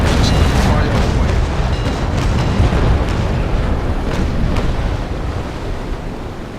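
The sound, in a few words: cannon broadside firing in Naval Action video game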